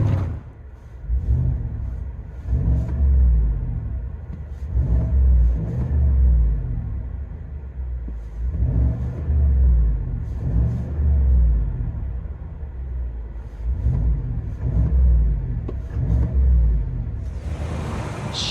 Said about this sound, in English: Chevy Silverado FLOWMASTER Super 10. Still got the factory resonators.